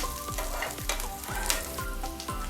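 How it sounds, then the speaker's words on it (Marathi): Onion sizzling in a pan for a veg sandwich filling, a bright continuous fry hiss broken by regular swooping scrapes of a spoon stirring, close and alone. "त्याच्यात कांदा टाकणार आहोत थोडंसं एखादा मिनटं आपण परतून घेऊया"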